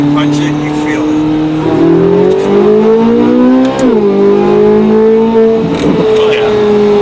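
A Chevrolet C8 Z06 Corvette engine pulls hard in second gear, its loud rising note climbing, dipping at a shift around midway, then droning on close up as heard from inside the car, with talk over it.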